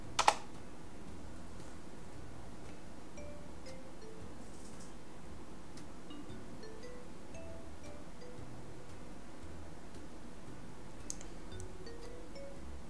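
Computer keyboard typing a command during Raspberry Pi Ubuntu Mate setup: faint, sparse key clicks scattered over a quiet hum, close and soft, with no talk.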